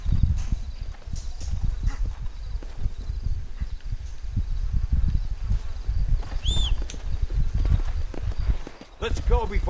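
Hooves thud and clop as horses move in a desert Mexico shooter video game. The steps are steady and fairly close, mixed with brief game effects and possible voices.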